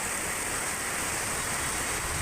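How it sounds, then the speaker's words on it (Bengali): Heavy rain driven by strong wind, a dense continuous roaring wash of noise with no breaks, steady and fairly loud, no voices. "দেখেন কি দমে বৃষ্টি শুরু হয়েছে, এত জোরে বৃষ্টি আর বাতাস"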